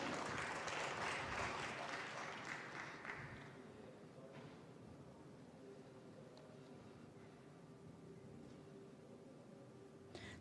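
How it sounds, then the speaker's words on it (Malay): Audience applause following a memorandum of understanding signing ceremony between UiTM and IRDA, a loud burst of clapping in the first few seconds that fades into a quieter room murmur, no speech. "Sekali lagi tuan-tuan dan puan-puan, berikan tepukan gemuruh untuk kita semua."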